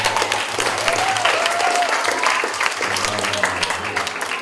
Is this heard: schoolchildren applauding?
yes